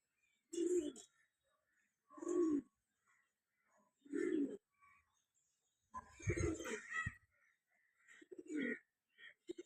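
Pigeons coo in low, throaty phrases, several separate bursts spaced a second or two apart, close by with quiet gaps between; black-tailed, black-eyed pigeons including hens and a white cock.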